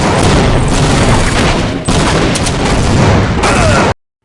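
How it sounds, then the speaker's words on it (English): Grenade blasts in the Team Fortress Classic video game, a loud continuous roar of overlapping explosions and gunfire that runs for about four seconds and then cuts off abruptly. "One thing that really separates this game is the grenades, which were originally planned for TF2"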